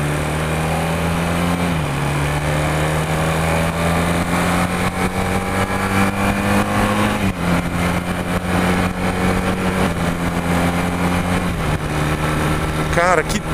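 A 1982 Honda CB400 motorcycle engine runs steadily near the microphone, with its pitch shifting in steps as the throttle is blipped and revved several times.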